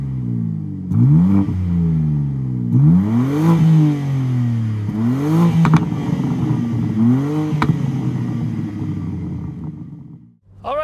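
A 2024 BMW M4 convertible engine revs hard several times, each climb in pitch followed by a drop, loud and close, before briefly falling quiet.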